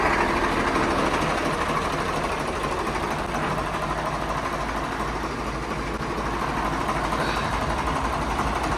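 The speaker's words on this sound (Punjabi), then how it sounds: "ਬਾਪੂ ਜੀ ਟਰੈਕਟਰ ਬਾਹਰ ਕੱਢਣ ਲੱਗੇ ਆ" A tractor engine runs steadily as it is driven out, a loud continuous low chugging drone close by without a break.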